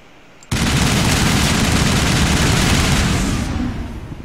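Sustained automatic gunfire from the video game Mass Effect bursts in abruptly and roars as one loud, continuous volley for about three seconds before tapering slightly.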